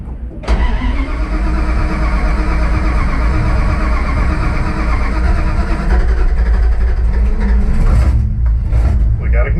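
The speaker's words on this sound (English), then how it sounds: "We got ignition. It's running badly, but it's running." A Jeep Grand Cherokee ZJ gasser cranks, catches and settles into a loud, uneven, rough-running idle close by, with someone speaking near the end.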